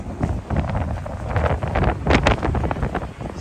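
Strong wind gusts batter the microphone outdoors in New York City, a loud, rumbling, buffeting roar that swells and eases unevenly throughout, no talking.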